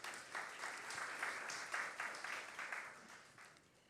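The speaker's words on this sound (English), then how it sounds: "I think that deserves a big round of applause" Brief, faint round of audience clapping at the launch of the Biennial Jamaica Diaspora Conference, a scattered patter that fades out after a few seconds.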